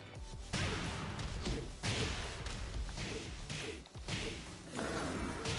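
Zafina's Scarecrow 2 attack lands in the Tekken 7 fighting game, a series of sharp whooshing strikes and thuds in quick succession amid the game's ongoing sound.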